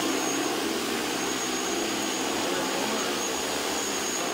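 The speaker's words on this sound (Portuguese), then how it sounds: "Um deles abordou o uso de drones na agricultura para pulverização." An agricultural crop-spraying drone gives off a steady, loud whirring buzz with no breaks, its rotor and motor noise staying even from start to finish.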